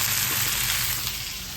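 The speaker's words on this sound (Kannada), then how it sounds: "ಕಟ್ ಮಾಡ್ಕೊಂಡಿರೋ ಅಂಥ ಟೊಮ್ಯಾಟೊ ಹಾಗೆಯೇ ಕೊತ್ತಂಬರಿ ಸೊಪ್ಪು ಇಷ್ಟನ್ನು ಹಾಕ್ಕೊಂಡು ಫ್ರೈ ಮಾಡ್ಕೊಳ್ಬೇಕು" Onions, tomatoes and coriander leaves frying in a pan give a steady, even sizzle that holds without a break, close and moderately loud.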